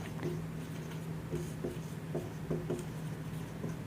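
Chalk or marker scratches across a board in short, rhythmic strokes, a faint dry rubbing pattern repeating every fraction of a second with no speech.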